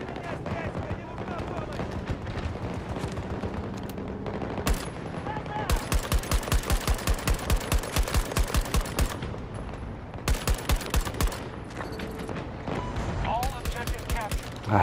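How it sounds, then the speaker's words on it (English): Assault rifle fire in Battlefield 2042 during a 64-player Breakthrough match on Hourglass, with loud rapid automatic bursts in long rhythmic strings, short pauses between volleys, and background battle noise. "I hate this damn fucking assault rifle."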